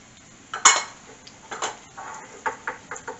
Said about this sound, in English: I'm going to mix it all together before I put it in there